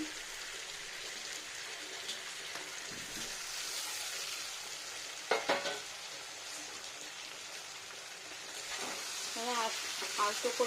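Paneer pieces fry in a pan with a steady soft sizzle, broken by a few scraping stirs and light clatters, fairly quiet with no voices.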